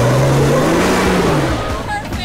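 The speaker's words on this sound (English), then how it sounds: "now step on the brake really hard and the gas really hard and let the brake off the brake really fast" The engine of a huge off-road wrecker truck roars loudly and steadily nearby, its pitch rising and falling as it revs, with a voice talking over it.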